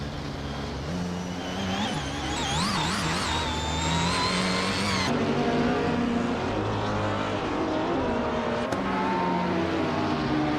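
A 2009 Audi R15 TDI race car drives past with a loud engine whine that climbs and falls through shifting revs, a brief dip midway, then a steady, sustained roar.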